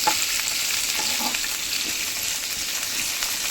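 Chopped onions and tomatoes frying in oil for a fish pulusu masala, a constant dense sizzle close up with light stirring scrapes mixed in, no voices.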